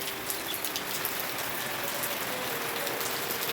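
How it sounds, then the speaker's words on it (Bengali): Heavy rain falls steadily, a constant hiss of drops striking surfaces with no voices. "পুরো বৃষ্টি ঝমঝম করছে।"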